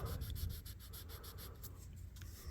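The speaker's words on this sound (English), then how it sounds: "every time I soak it and then I come out and I lightly sand on it" Light sandpaper rubs on a WWII-era US Navy pilot's folding survival knife in quick, even back-and-forth strokes, faint and close, with no talking.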